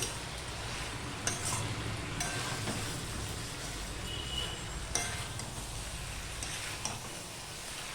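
A vegetable curry with poppy seed paste is stirred continuously in a wok over a low-to-medium gas flame, with a quiet sizzle and occasional soft scrapes and clinks of the spatula against the pan.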